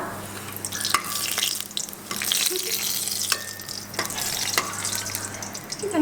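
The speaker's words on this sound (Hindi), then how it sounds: "अभी इसमें मैं सूखे मसाले डालूंगी" Dry ground spices are stirred in a hot pan and fry with a continuous sizzle, while a spoon scrapes and clinks against the metal at irregular moments.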